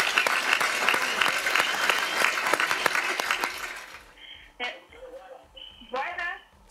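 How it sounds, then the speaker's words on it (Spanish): An audience applauds for the people of Nagua during a Dominican television program, dense close clapping for about four seconds that stops abruptly, followed by a few voices speaking. "Familia, un aplauso a la gente de Nagua."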